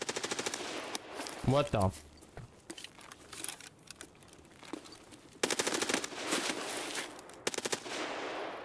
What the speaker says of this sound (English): Oh, those guys were shooting me.